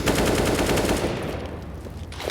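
Rapid automatic gunfire in a professional Counter-Strike match at IEM Rio 2023, a loud dense burst of shots sprayed through a tarpaulin that trails off into quieter echoing reports.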